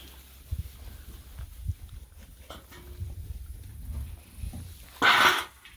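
Young puppies shuffle and whimper nearby, with soft thumps and faint whines scattered throughout and a louder rustling burst near the end.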